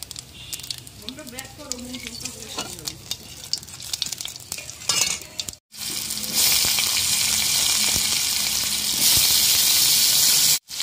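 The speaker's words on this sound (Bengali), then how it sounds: "কয়েকটা গোটা জিরে ফোড়ন দিলাম" Oil for a fish curry sizzles loudly as whole cumin seeds hit the hot pan, preceded by stirring clatter and a brief voice, then a steady, crackling hiss.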